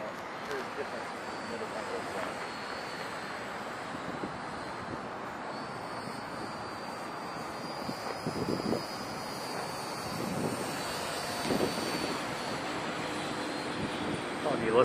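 A small EasySky Micro P-38 twin-propeller RC model airplane flies outdoors in wind, its faint buzzing drone rising and fading under heavy wind noise on the microphone, with a voice speaking intermittently.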